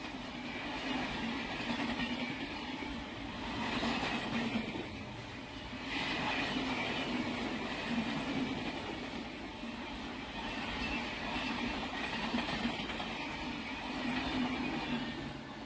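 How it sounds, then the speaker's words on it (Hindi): An Indian railway locomotive hauling a train rolls past at a steady distance with a broad rumbling roar that swells and eases in waves, no clear horn, carrying on throughout without speech. "क्या बात है यार, ये सही खूबसूरत आया लोकोमोटिव"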